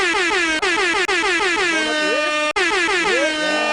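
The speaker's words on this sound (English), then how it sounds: "Air horns. We got air horns now." A loud air horn blares in long, continuous blasts with brief cutoffs between them, harsh and close.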